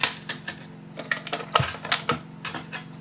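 A die cutting machine presses card pieces through flower-shaped dies, giving a run of sharp clicking and clattering knocks, close and fairly loud, with no talk.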